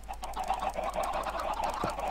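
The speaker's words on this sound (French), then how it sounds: "On va se faire spawner plein de poules." A crowd of chickens spawned in Minecraft, clucking continuously in overlapping calls, near and steady with a brief thump near the end.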